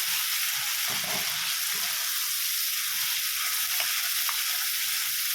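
Fish curry sautéing in a pan sizzles steadily up close, with a few faint stirring scrapes mixed in and no talk.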